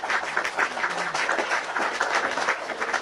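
An audience clapping for a few seconds, a steady patter of many hands at moderate, even loudness without a clear peak.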